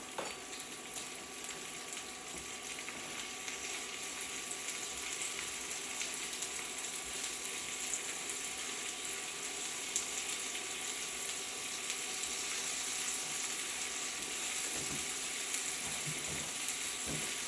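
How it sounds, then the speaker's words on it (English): Steady, dense sizzling of cauliflower steak frying in hot oil, continuous and fairly faint throughout with no talking. "I don't know if you're close enough to be able to hear that sizzle."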